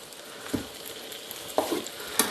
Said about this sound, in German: dann lassen wir die paar Kartoffeln anbraten